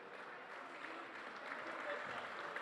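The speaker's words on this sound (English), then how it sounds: "a good round of applause for the starting seniors" A gym crowd at a high school boys' volleyball match on senior night applauds the starting seniors with a steady, fairly distant wash of clapping that holds throughout without a break.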